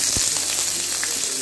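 Small shallots, green chili and curry leaves sautéing in oil in a pan, giving a steady, soft sizzle with faint crackles throughout and no voices.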